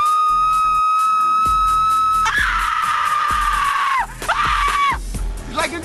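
A volunteer on a TV show set lets out a loud, sustained high scream lasting several seconds, breaking off briefly and resuming, with crowd noise and voices around it.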